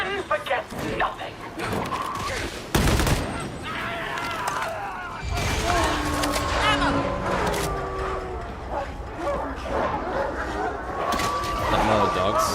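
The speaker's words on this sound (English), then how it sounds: "Not more dogs." Dogs bark and yip in a video game about a cult called Admonition, several short barks scattered among game music, shouts and effects, with voices talking over much of it.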